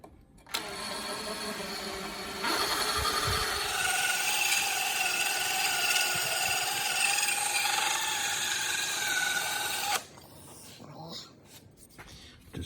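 A power drill whirs continuously for several seconds during home repair work on a Holden FC Grey Motor engine, its pitch rising slightly partway through, then cuts off, leaving quieter clicks and handling noises.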